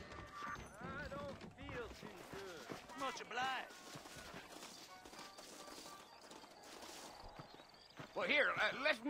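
Horses' hooves clip-clop in the Red Dead Redemption video game, a steady rhythmic clatter heard under continuous talk and background game music.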